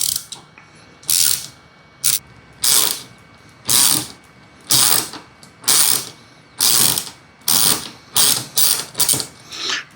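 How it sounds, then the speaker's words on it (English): A ratcheting tap wrench threads a bolt hole with a repeated, crisp clicking of the pawl, arriving in short bursts about twice a second, close and loud, with brief pauses between strokes. "once it starts getting kind of caught, that's when the ratcheting portion comes in"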